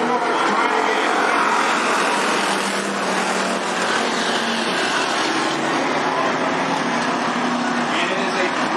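Race cars on the Cottage Grove Speedway track roar loudly and without a break, a dense engine drone that swells and fades as cars circle, with an announcer talking over it.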